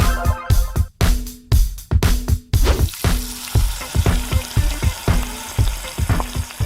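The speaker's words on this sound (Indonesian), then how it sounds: "Kita goreng pastelnya selama kurang lebih 6 menit sampai warnanya berubah." Pastel pastries deep frying in hot oil at a pastry factory, a loud close crackling sizzle with rhythmic scraping and stirring knocks, running continuously with no talking.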